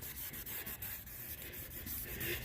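A kit sanding block wet-sands a yellowed headlight lens with a Cerakote cleaning kit, giving quick, close, rhythmic back-and-forth rubbing strokes, quiet and unaccompanied by speech.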